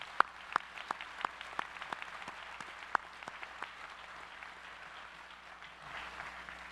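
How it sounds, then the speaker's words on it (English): An audience at a judicial investiture ceremony gives a round of applause, scattered claps that start out sharp and distinct and then settle into a softer, steady patter in a large room. "Let's give these folks a round of applause,"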